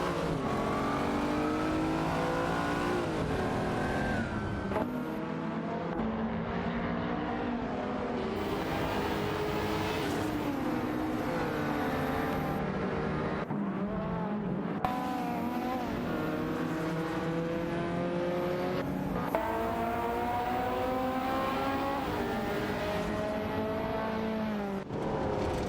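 Ferraris and Lamborghinis racing in a video game, a dense, continuous roar of revving engines that climb and shift gears, several cars heard at once, loud and close throughout.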